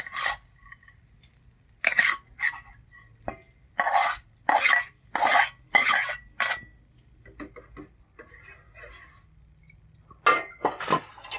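A pot of water is handled on a home stove while vegetarian rice porridge is being cooked, giving a series of short clanking and scraping knocks in bursts, fairly close, with quiet gaps and no talk.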